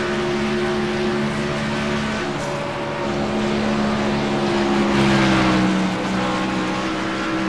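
Race truck engine on a lap at Michigan in the iRacing sim, a steady loud droning whine with shifting pitch, constant throughout and with no voices.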